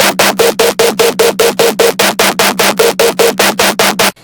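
A gritty, buzzing dubstep synth with its phaser turned off pulses in a fast, even rhythm of about sixteen hits, loud and dry, cutting off abruptly at the end.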